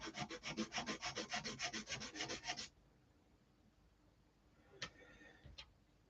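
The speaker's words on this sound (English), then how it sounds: "sanding the rough bit off." Rapid rhythmic rasping strokes of a sanding stick on wood for a few seconds, then quiet, followed by two brief scraping strokes.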